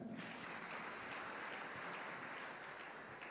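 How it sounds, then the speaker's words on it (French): A seated audience gives steady, even applause at a fairly quiet level, a continuous patter of clapping for several seconds with no voices over it. "Acclamez pour vous-même"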